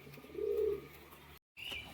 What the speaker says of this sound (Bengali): এরকম অ্যাগ্রেসিভ পায়রা দেখুন বাইরে বেরোনোর জন্য পুরো ছুটাউটি করছে